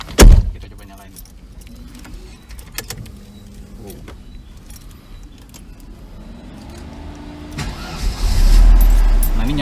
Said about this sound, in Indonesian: Nah ini nyala mesinnya tuh kayak gini kurang lebih